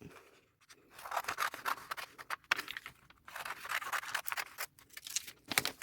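Scissors snipping through denim fabric while cutting out a poncho panel, a steady run of close, crisp scraping cuts with brief pauses between strokes.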